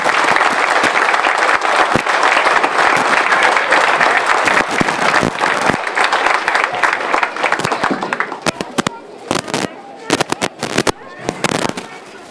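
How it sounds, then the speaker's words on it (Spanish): Loud, dense applause from a crowd inside a prison during an Independence Day ceremony, with a few sharp cracks and pops; it thins out into scattered claps near the end. "aplauso fuerte para el señor Jesús"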